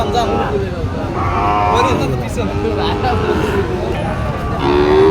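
Sahiwal cattle low at a busy cattle market at Ambari Hat, Dinajpur, amid crowd chatter, with a clear moo near the end.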